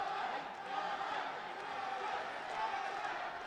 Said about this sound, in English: He does have the crowd in the lower bowl here at the Toyota Arena.